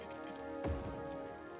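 Rain falling in the city-building game Cities: Skylines, a soft steady patter heard faintly as continuous ambience, with one brief low thump midway and no talking.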